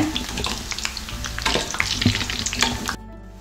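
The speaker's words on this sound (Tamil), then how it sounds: "ரெண்டு பக்கம் நல்லா திருப்பி போட்டாச்சு சலசலப்பெல்லாம் அடங்கினது உடனே எடுத்துடலாம்" Green peas vada fry in hot oil, giving a dense, close sizzle with bubbling crackles and a few stirring or turning scrapes, which stop abruptly near the end.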